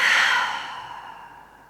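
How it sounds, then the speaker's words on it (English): A strong, forceful breath through the nose ending a yoga session, rushing loudly at first, then fading out smoothly as a long, full exhale. "Breathe in through your nose. And exhale fully."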